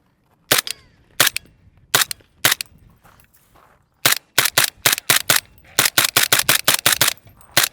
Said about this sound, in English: I'm gonna shoot another mag to this thing.